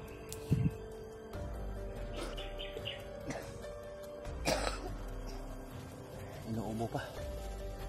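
A person coughing and clearing their throat while resting during a hike, a few short rough bursts over a quiet outdoor backdrop where birds chirp intermittently.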